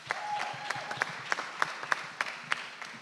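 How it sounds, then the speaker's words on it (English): A conference audience claps for a panelist, a moderate burst of applause with a few sharp, loud claps standing out near the mic, while a voice murmurs faintly underneath. "We're gonna be clapping all day for you."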